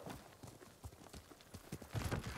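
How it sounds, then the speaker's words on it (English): Hooves of a horse galloping in the video game Ghost of Tsushima beat out a quick, steady rhythm of soft thuds, fairly faint, with no talk over them. "Jose, let's go. Giddy up"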